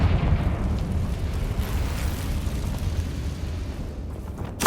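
A sustained, loud rumbling blast with dense crackling fills the whole stretch as the Confringo blasting spell explodes in the Hogwarts Legacy video game, with a sharper burst at the very end.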